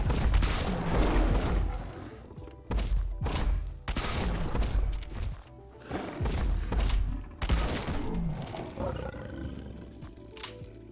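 Heavy weapon explosions from a modded Fallout 4 weapon pack: a series of loud, booming blasts with rumbling decays, arriving in irregular bursts and filling the clip without talk.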